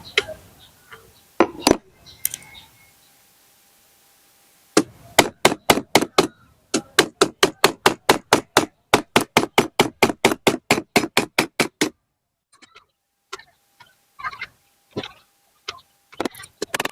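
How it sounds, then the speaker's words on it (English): Sharp metallic taps of frets being hammered into a guitar neck, repeated in quick, steady bursts, close by, with short pauses between runs and a few scattered knocks at the start and end. "if you didn't hammer them inside equal enough, and now it will fire out and you can hammer them in more"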